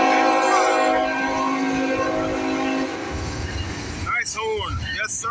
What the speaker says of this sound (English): CSX train meet, north and south.